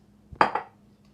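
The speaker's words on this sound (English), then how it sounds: "Now, I'm going to put the cheese in." Cheese for a macaroni pie tipped into a bowl of mixture with evaporated milk and onion, giving one brief clattering knock against the bowl followed by a short softer rattle, close and alone.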